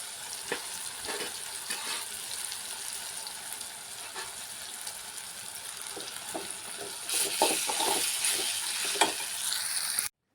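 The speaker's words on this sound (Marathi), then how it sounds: "आणि आता याच्यामध्ये शेवया टाकून घेऊ" Vermicelli frying and being stirred into a cooked tomato and green-chilli masala, with a steady sizzle throughout that grows louder and busier partway through, plus scattered scraping of the stirring spoon.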